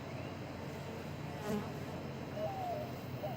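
A faint, steady bee buzz hums around a swarm trap over soft outdoor background noise, with a few brief higher whines drifting past.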